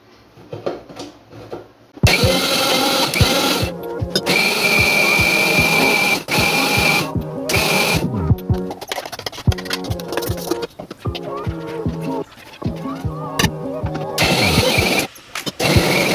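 A mixer grinder grinds coriander into a batter in loud bursts, the motor cutting in and out repeatedly with short pauses between pulses, each run a harsh, buzzing whir close by.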